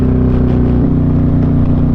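A Harley-Davidson 128 Street Glide tuned to 177 horsepower by Zipper's Performance rumbles loud and close through its exhaust, with a deep, steady, evenly pulsing idle and no voices over it.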